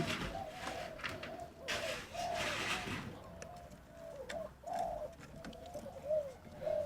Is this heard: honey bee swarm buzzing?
no